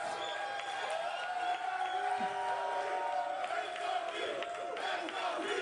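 Live studio crowd on a sports talk show chants "beat the heat" for the Miami Heat, a sustained, loud massed chant with cheering and some whooping.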